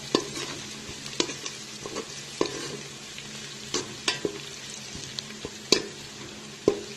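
A steady soft sizzle of crushed garlic frying in a pan, broken by irregular clinks and scrapes of a spoon stirring, close by and with no talking.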